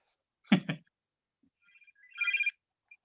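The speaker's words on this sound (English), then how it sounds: "The phone's ringing already." A telephone rings once in a short burst near the end, after a brief low thump, during a parish meeting, otherwise quiet.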